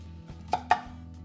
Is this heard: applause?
no